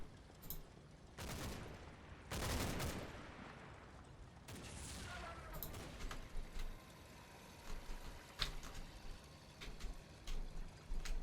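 Gunfire in the WWII game Combat Mission: Battle for Normandy comes as several sharp bursts early on, then scattered single shots and distant rumbling, all fairly faint with no speech.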